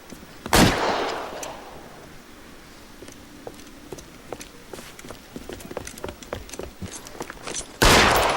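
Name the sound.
gunfire in the video game L.A. Noire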